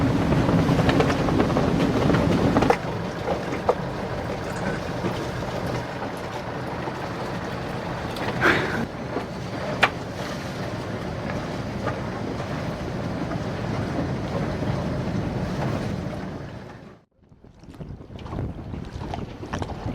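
A sailboat moves on open Caribbean water, with a steady rush of wind and water noise that stays loud throughout, then drops suddenly near the end before returning more faintly.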